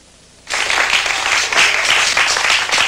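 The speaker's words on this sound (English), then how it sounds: "But you better save some of that applause for Bill" Audience applause breaks out after a half-second of near silence, a dense, steady wash of many hands clapping that stays loud and sustained to the end with no talk over it.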